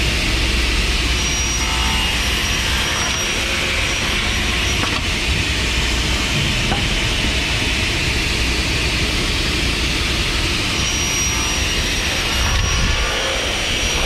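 Radial arm saw slicing through wood in a workshop, a loud continuous roaring whine that holds steady throughout with slight shifts in tone as the blade is pulled through.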